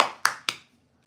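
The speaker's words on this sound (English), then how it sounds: "She didn't know you had to slap it for it to work." Two sharp hand slaps strike a Disney light, quick and close together, each a crisp smack that rings out briefly before silence.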